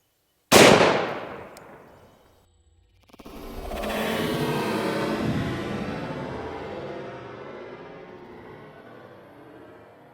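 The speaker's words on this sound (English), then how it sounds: "We're gonna start off with the soda pop bottle. We're gonna shoot it" A single loud gunshot strikes a soda bottle fitted with a Firebird reactive target, followed after a brief pause by a burst of flame, a rushing roar that swells and slowly fades over several seconds outdoors.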